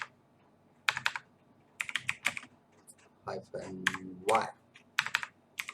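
Keys clacking on a computer keyboard in quick bursts as npm init is typed, close and clear, with a speaking voice in the middle of the typing.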